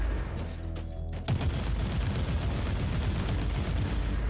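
A bolter fires in Warhammer 40K: Inquisitor, a loud, dense burst of heavy rapid gunfire erupting after a brief musical lead-in and continuing as a rumbling barrage.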